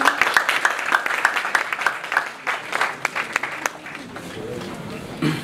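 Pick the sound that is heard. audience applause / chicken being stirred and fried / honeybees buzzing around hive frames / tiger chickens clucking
audience applause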